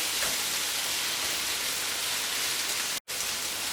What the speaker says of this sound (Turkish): Bir, bir buçuk dakika kadar da beraber kavuracağım.